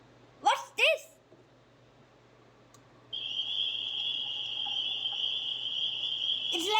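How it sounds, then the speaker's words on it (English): Crickets chirping as a sound effect in the Scratch programming app: a steady, continuous high-pitched trill that starts partway through and runs to the end, following a couple of brief spoken words. "And for the second sound, I like to choose crickets."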